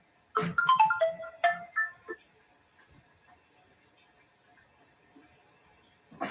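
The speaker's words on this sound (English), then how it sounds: "Answer the phone." A phone ringtone plays a short bright melodic run of descending tones for about two seconds, close and clear, then cuts off, leaving near silence with faint rustles before a voice begins at the very end.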